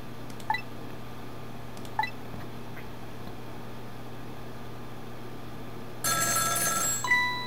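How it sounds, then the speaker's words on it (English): A telephone rings in the Ghost Trick video game, a bright electronic trill that starts late and sounds loud against a quiet hum, with a few faint blips earlier. "The phone is ringing."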